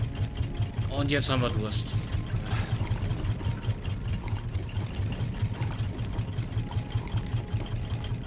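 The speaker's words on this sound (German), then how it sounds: "Können wir Motor wieder ausschalten" Motor on a survival raft in the game Raft, a steady low rhythmic chugging drone running throughout under a man's speech.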